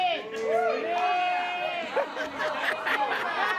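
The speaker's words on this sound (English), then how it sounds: "all they're getting is a hail of boos" A pro wrestling crowd at a Pro Wrestling Symphony show jeers The Carnies in their match against Royal Prestige, a steady arena roar of mixed voices with wavering shouts rising through the noise.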